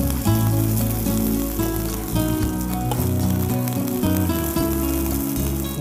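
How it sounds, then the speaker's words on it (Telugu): Okra (bhindi) fries in hot oil in a home kitchen, a steady dense sizzle and crackle that runs loud and unbroken throughout. "బెండకాయలు మంచిగా ఫ్రై అయినాయండి"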